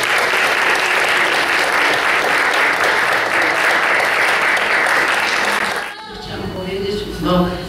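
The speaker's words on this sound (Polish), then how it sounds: "Duże brawa dla całej złotej dziesiątki." Loud, sustained applause fills a hall during a Polish school teacher-of-the-year award ceremony, dense clapping from a large audience that stops abruptly, followed by a speaking voice.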